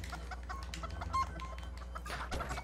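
A chicken clucks repeatedly in the video game LittleBigPlanet 2, a steady run of short clucks over a low constant hum of game background sound, without talk.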